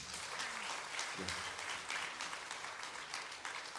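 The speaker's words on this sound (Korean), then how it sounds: "다시 한번 더 박수 부탁드립니다." Concert audience applause in a hall after a Moonlight Sonata performance, even, steady clapping throughout the short stretch, moderately distant.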